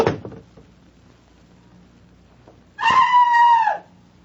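A woman lets out a single loud, drawn-out scream of about a second from behind a closed bathroom door, following near silence.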